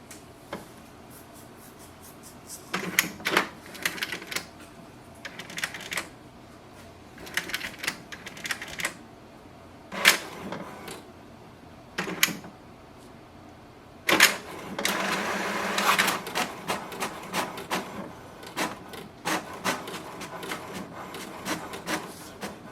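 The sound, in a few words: HP DeskJet 2955 printer printing diagnostic report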